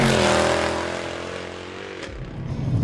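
A Mercedes-Benz C63 AMG estate's 6.2L V8 revs hard and loud, its deep growl rising then settling, with a second throaty burst near the end.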